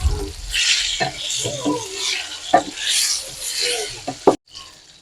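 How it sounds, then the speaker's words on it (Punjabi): Amla (Indian gooseberries) frying in hot oil with nigella seeds, mustard seeds and cumin: a close, bright sizzle with crackles and sharp pops, and a voice talking faintly under it. "ਪਹਿਲਾਂ ਔਲੇ ਇਹਨਾਂ ਨੂੰ ਥੋੜਾ ਜਿਹਾ ਫਰਾਈ ਕਰਨਾ"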